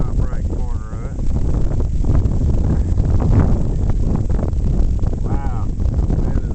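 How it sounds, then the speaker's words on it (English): Strong gusty wind around 30 mph buffets the microphone at an outdoor airgun range, a loud continuous low rumble and roar throughout, with a few faint voice-like fragments in the noise. "The wind is blowing about 30 miles an hour right now. You can probably hear it in the microphone."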